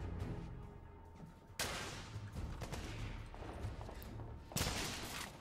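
Sustained gunfire in The Order: 1886, a dense rolling volley of shots with two sharp, loud bursts standing out, continuous and close throughout.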